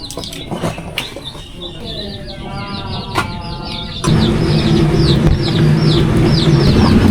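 Native desi chickens cluck repeatedly in a rural village morning. Bird chirps are mixed in, and the sound grows louder and more crowded partway through.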